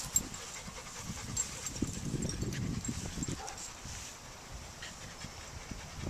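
Dogs pant in rapid, breathy bursts close by, with light scuffling and an occasional faint whimper; no one speaks.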